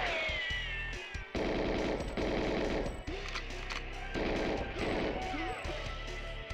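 Bursts of rapid gunfire from the Xbox version of the video game GoldenEye, loud and dense in several sustained volleys with short pauses, mixed with game music and effects.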